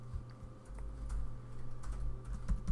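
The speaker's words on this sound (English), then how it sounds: "There's typing." Keys clatter on a computer keyboard in quick irregular bursts, soft and close, over a low steady background hum, with no voices.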